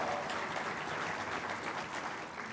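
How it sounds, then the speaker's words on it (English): Steady applause from a sizable audience fills the whole stretch, dense and even, with no voices standing out. "So please give them a round of applause."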